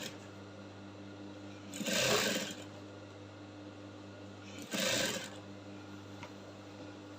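A sewing machine stitches a collar into a neckline in two short bursts, each about a second long, separated by a quiet stretch with faint handling noise.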